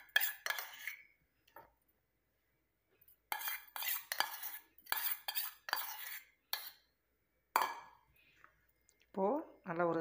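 A spoon scrapes and clinks around a bowl of homemade almond and coconut face cream in repeated close bursts of stirring with quiet pauses, and a voice speaks briefly at the end.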